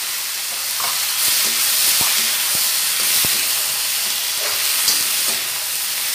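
Cluster beans frying in a pan with fenugreek seeds and asafoetida: a continuous loud sizzling hiss with a few sharp clinks of stirring, no voices.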